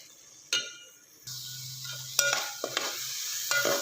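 Carrot halwa sizzling in a pan as a spoon scrapes and stirs it, a soft hiss under a few clinking, scraping strokes, quiet and close.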